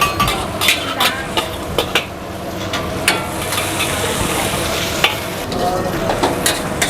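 Vegetables and meatballs stir-fried in a busy eatery's wok, with a steady loud sizzle broken by repeated scraping clatters of the spatula against the pan, close and with no talking.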